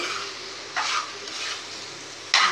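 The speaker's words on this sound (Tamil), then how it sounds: "இந்த ஸ்டேஜில் இந்த முட்டை இருக்குல்ல, பொரிச்ச முட்டை, இதையும் போட்டு நல்லா பெரட்டி விட்டு" Fried egg pieces get stirred into Egg Manchurian in a hot pan, giving a steady sizzle broken by a few scraping strokes of the spoon against the pan.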